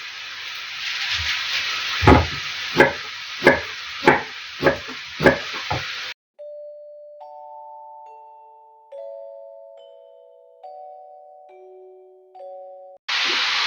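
Mushrooms frying in a pan give a loud, close sizzling hiss with several soft thumps for about six seconds. The sizzle then cuts out and gentle tones follow.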